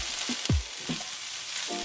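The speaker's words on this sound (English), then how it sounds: "once that's hot, you're gonna add in your broccoli" Broccoli frying in hot oil in a wok while a spatula stirs it, a steady close sizzle with a few short scraping knocks and a louder clatter early on.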